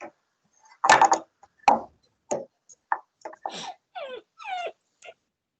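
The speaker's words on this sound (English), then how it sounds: "Somebody's dog wants some loving." A dog whimpers and whines in a classroom, a run of high, quavering cries and short yips coming in bursts close by, with no talk over them.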